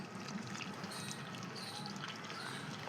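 Water poured from a container onto the soil in a pot holding a mint cutting, a steady close trickling and splashing wash that runs for about three seconds without pause.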